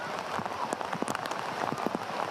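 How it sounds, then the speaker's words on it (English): Rain patters steadily onto a soccer pitch during a college men's match, a dense, even hiss of drops with no voices. "So the rain evident to see on Kalukian's kit"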